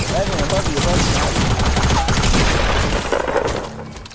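Rapid video game gunfire, dense bursts of automatic shots with crackling impacts and breaking sounds, loud and close, tapering off toward the end.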